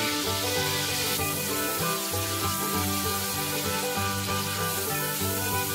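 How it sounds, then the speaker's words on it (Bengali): A paste of tomato, ginger and green chili fries in a pan for paneer masala, giving a steady, close sizzle that runs without a break under a faint background hum. "তারপর অ্যাড করতে হবে টমেটো, আদা, কাঁচা লঙ্কা বাটা।"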